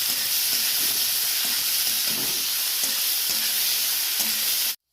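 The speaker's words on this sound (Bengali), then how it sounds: "ভালো করে নেড়ে চেড়ে আমি এটা ভাজা হবে" Cabbage fries in hot oil with salt and turmeric, a steady close sizzle broken by repeated scraping strokes of a spatula stirring the pan, ending abruptly.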